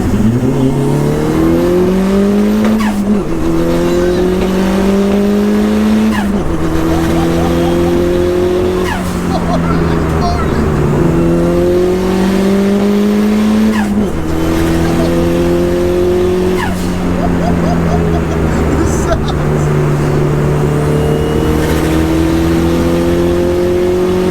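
A turbocharged Nissan Pulsar engine revs repeatedly, pitch climbing with each gear then dropping, loud and close with turbo whoosh, on a moving road.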